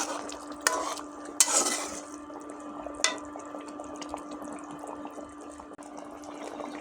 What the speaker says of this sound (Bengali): এবার আমি ভালো করে নেড়ে দেবো